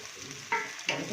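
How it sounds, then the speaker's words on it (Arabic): Garlic and coriander frying in a pan for Egyptian bessara, a steady close sizzle with two louder bursts as the mixture is stirred, and no voices. "قلي كويس"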